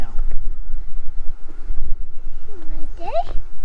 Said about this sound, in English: It was a bit windy, wasn't it?